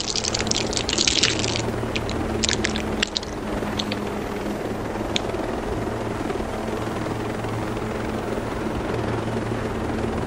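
A helicopter in the video game Ghost Recon Breakpoint drones steadily and loudly for the whole stretch, with a few sharp splashy bursts layered over the rotor noise early on.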